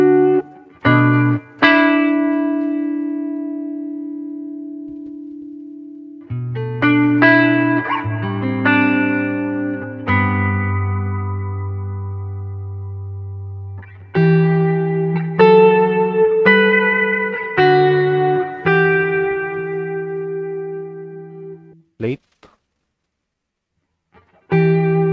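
Electric guitar played through a Nux Amp Academy amp modeler with effects: sustained chords and picked notes ring out loud and clear, with ambient trails and brief pauses between phrases, ending in silence.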